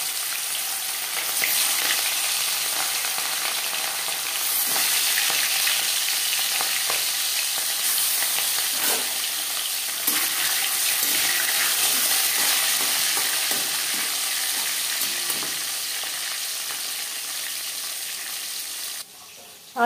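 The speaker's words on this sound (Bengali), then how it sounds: "এবার দিয়ে দিলাম ম্যারিনেট করে রাখা মাছ।" Marinated katla fish pieces sizzle steadily in hot refined oil in a wok, a continuous loud crackling fry with occasional stirring clicks, no voices.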